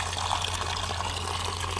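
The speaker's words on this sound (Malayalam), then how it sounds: "വെള്ളം ഒഴിച്ച് നോക്കാം" Water splashes steadily onto a freshly waterproofed surface, a continuous, fairly loud rush of pouring liquid with no voices.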